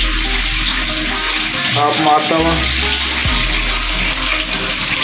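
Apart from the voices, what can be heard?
hot water running from a hotel bathroom tap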